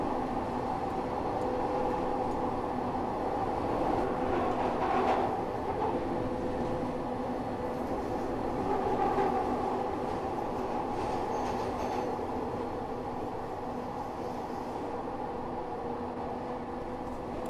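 A Glasgow Subway train in Train Simulator Classic powers along the tunnel, a steady rumbling traction hum with motor whine rising and falling and faint wheel squeals, alone with no talk.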